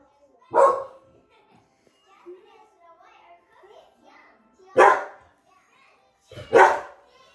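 Dogs barking outdoors: three loud, sharp barks spaced apart, one early and two close together near the end, with quieter scattered sounds and faint voices between them.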